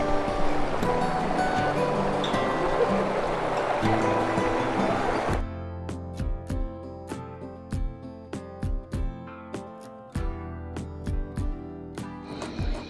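A stream rushes at a campsite near Kaeng Khoi in Saraburi, Thailand, a dense close wash of flowing water for about five seconds. Then the water noise is replaced by sparse, rhythmic plucked music.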